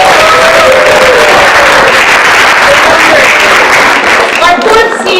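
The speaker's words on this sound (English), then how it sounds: "Give them a round of applause." An audience applauds after a Shakespeare scene, giving dense sustained clapping that fills the room throughout, with a little cheering and murmured voices underneath.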